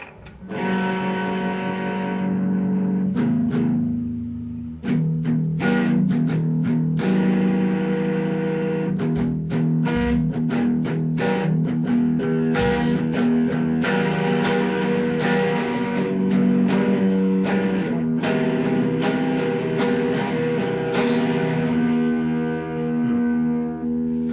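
Distorted instrument played with the mid turned off and less distortion, dense sustained chords and strummed hits, steady and loud throughout, with no talk.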